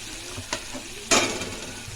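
Tomato and spices sautéing in a pan for a sukat kandyachi pat dish, with a steady sizzle broken by two short scraping stir strokes, close and without speech.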